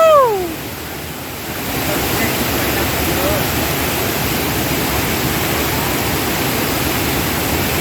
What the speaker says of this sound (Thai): อันนี้คือแบบน้ำไหลลงมาอีก